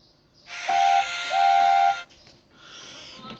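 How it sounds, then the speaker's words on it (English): A cartoon steam engine whistle sounds two loud blasts, a short one then a longer one, over a rushing hiss of steam, followed by fainter hissing. "Still a loud poop poop came from the front of the train."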